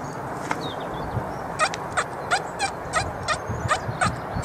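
Repeated short electronic tones from an XP Deus metal detector, roughly eight quick warbling beeps over steady outdoor background noise.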